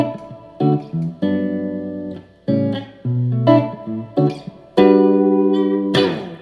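Clean electric guitar notes and chords through a Mesa 5:25 Express amp's reverb, played in short phrases with pauses, bright and ringing with a little reverb tail.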